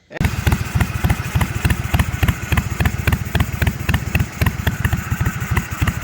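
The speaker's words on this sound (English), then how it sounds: "the engine that was on it, just a 12 horsepower Briggs & Stratton single cylinder engine" A racing mower's 12 hp Briggs & Stratton single-cylinder engine runs close and loud, a rapid, steady pulsing chug with a clattery edge that holds an even rhythm from start to finish.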